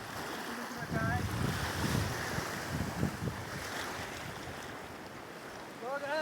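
River water rushing steadily outdoors during a fishing outing in Nepal, a broad continuous wash with heavy wind buffeting the microphone and a few faint high calls near the start and end.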